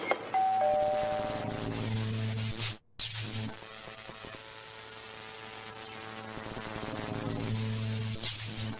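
A faulty buzzing electric doorbell that gives electric shocks drones steadily for several seconds, cuts off briefly, then resumes its continuous harsh hum until the end.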